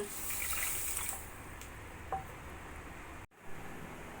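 A bowl of water poured onto sugar to make syrup for Bengali gaja sweets gives a short, bright splash lasting about a second. Faint clatters follow, then quiet.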